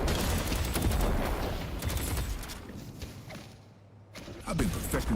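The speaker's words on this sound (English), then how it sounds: "So if you'll notice what it looks like now when I shoot things" Rapid gunfire from shooting in the video game Deadlock, a dense stream of shots and impacts layered with game effects, steady and fairly loud through most of the stretch, briefly dipping before resuming.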